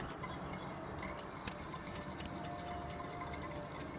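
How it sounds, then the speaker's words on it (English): Coffee being whisked in a cup, a strong brew with coconut, producing a steady run of light metallic clinks and taps at close range, rhythmic and quiet with no talking. "So I'm going to whisk that around."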